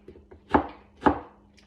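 Two sharp knife chops a half-second apart as onion and garlic are cut on a board, crisp and close with faint knocks before and after, no talking.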